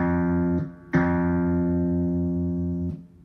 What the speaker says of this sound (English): If I turn it up, you get to hear like the amp.